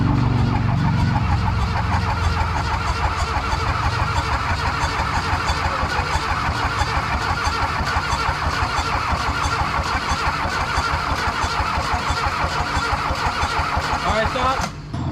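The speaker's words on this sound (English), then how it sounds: "So now she should just crank it over and then should be okay." A diesel engine in a VW Mk1 Caddy truck cranks over continuously for about fifteen seconds, a loud, close, rhythmic churning that stops abruptly at the end.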